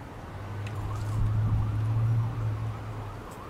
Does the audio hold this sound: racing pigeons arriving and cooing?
no